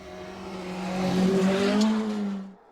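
A Ford Fiesta rally car at speed on a snowy winter rally stage, its engine note rising as it approaches, loud and close for a couple of seconds, then cutting away.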